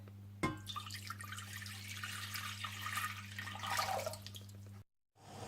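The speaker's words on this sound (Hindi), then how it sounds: "सबसे पहले आप पानी डाल लें" Water poured into a pot at the start of making Kashmiri tea, a splashing liquid stream over a steady low hum, ending abruptly before a short silence.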